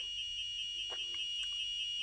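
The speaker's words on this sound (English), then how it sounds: "this controls the first beeping sound" An active buzzer on an Arduino Elegoo Uno R3 gives a fast string of thin, high, evenly spaced electronic beeps, close and steady, with a few faint clicks mixed in.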